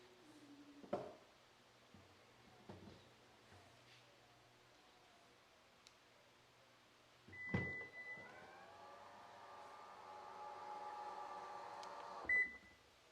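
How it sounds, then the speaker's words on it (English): A 2023 Toyota Prius power hatch hums steadily while running, punctuated by short electronic double beeps; quiet background with faint clicks, no talking. "it does its double beep after you hold it the first time"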